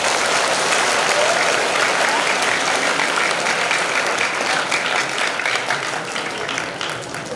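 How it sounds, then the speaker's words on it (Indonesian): Students at a Ramadan gathering and certificate ceremony applaud the fastest Quran completers, a thick wash of clapping from a sizeable group that stays steady before tapering off near the end. "Boleh tepuk tangan"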